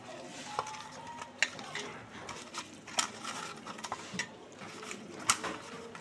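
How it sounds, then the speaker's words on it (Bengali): Small local fish being rubbed together with salt and turmeric by hand, giving soft wet squelching and mixing noises with occasional sharper clicks against a bowl, close and steady with no speech. "এবার অল্প করে হলুদ দিয়ে দিচ্ছি, দিয়ে এটা মাখিয়ে নেবো মাছগুলো।"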